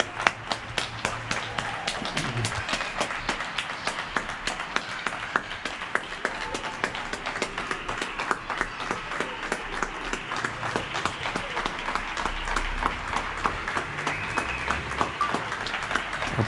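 Neighbours applaud health workers from balconies across a quiet street in Getxo, a steady patter of many distant hands echoing off buildings, fairly faint and continuous, with occasional voices.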